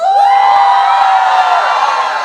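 A school assembly crowd cheers and shouts for Agni House, a loud sustained roar of young voices that swells quickly and holds for about two seconds.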